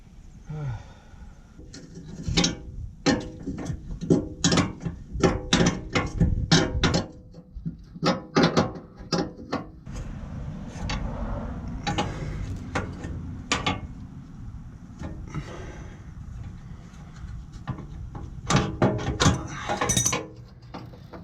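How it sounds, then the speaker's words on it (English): A ratchet unthreads the bolts on a generator mount, producing rapid runs of sharp metallic clicks in uneven bursts with brief pauses and some clanking, close by and without talk. "And now I'll start unthreading those bolts."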